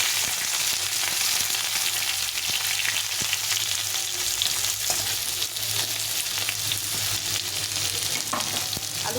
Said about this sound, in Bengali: আলু কুমড়োটাকে ভালো করে ভেজে নিতে হবে